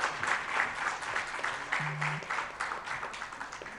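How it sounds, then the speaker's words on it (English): Conference audience applauding, a steady patter of many hands clapping that stays even and fills the room for a few seconds. "Can I have a huge round of applause, please?"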